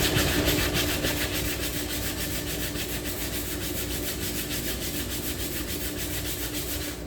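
Sandpaper worked in an X pattern over a 2017 Chevy Sonic car part, a steady, close, continuous rasping rub that runs unbroken for several seconds with no talk.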